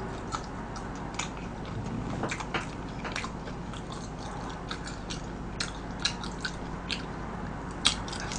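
A large fried cheese stick with a crispy outside and red bean filling is bitten and chewed close to the mic, with soft crunches and small clicks ticking irregularly over a steady low hum.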